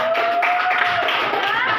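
Hands clap in a classroom, a brief burst of several people applauding together, close and steady for under two seconds with a faint voice beneath.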